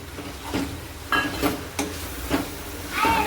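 Crushed bottle gourd mixture being stirred in a pan for dudhi no odo, with a steady soft sizzle and repeated scraping strokes of a spoon every half second or so, close and fairly quiet.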